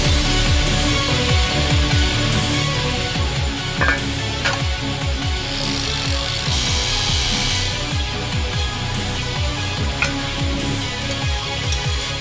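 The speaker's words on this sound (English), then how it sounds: "if you're drilling steel like this" A power drill with an oiled bit bores into steel, a steady, loud grinding whir with rapid repeated chattering pulses that runs close and continuous, with no voices.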